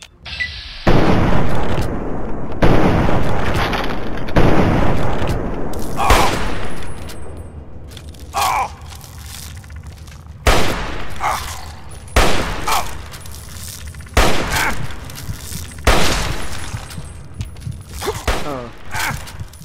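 Gunfire in the video game Fallout 3: a series of loud, close shots and sharp bursts in irregular clusters, some quick volleys and single cracks separated by short pauses, with game ambience between them.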